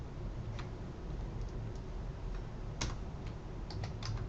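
Keys click steadily on a computer keyboard as SPSS syntax is typed. The taps are light and fairly quick, with a few sharper keystrokes bunched together near the end.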